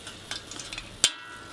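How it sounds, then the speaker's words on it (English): Stuffed jalapeno bites frying in hot oil heated over an open fire, with a soft steady sizzle, a few light clinks and one sharp metallic knock near the end, close and fairly quiet. "cook them in the hot oil that's been burning on the fire for the last 20 minutes"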